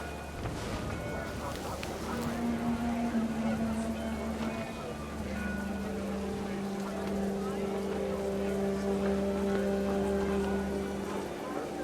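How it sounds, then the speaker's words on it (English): Heavy rain pours down in a video game, a dense steady hiss filling the whole clip, with a low droning tone and a few higher sustained tones running underneath. "Rain came down in buckets then"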